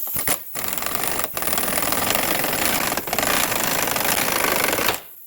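Pneumatic impact gun with a 19 mm socket working a ball joint fastener on a 2006 Subaru Forester, a loud, close rattling hammer sustained for about five seconds with a few brief breaks before stopping abruptly.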